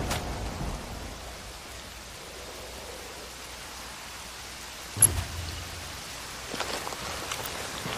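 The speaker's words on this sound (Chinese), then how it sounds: "晚上下雨了，根本看不到人。" Steady night rain hisses across a Ghost Recon Wildlands Ghost War match, a constant even wash with one sharp thump near the middle and brief rustling near the end.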